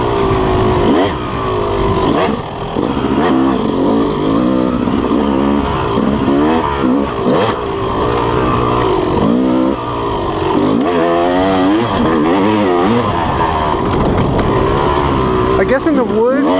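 A Yamaha YZ250 two-stroke dirt bike ridden in the woods, its engine buzzing and revving continuously up and down, loud and close throughout, with a rider's voice over it.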